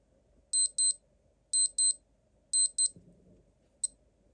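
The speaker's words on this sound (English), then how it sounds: "Next we've got the alarm mode." A Casio STR-1000 digital watch alarm: high electronic double beeps repeat three times in a quick pattern, followed by a single short beep, with near silence between them.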